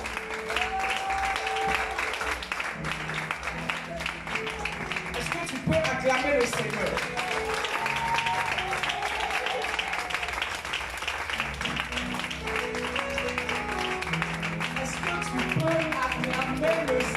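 A worship congregation claps rhythmically in praise of the Lord, steady and lively throughout, mixed with singing voices and music at a French-language Rosh Hashanah service.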